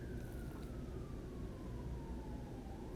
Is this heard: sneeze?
no